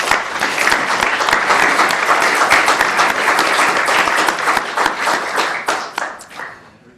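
An audience at a public debate event applauds to welcome a debater to the stage: dense, sustained clapping from many hands that swells, holds, then thins and fades toward the end.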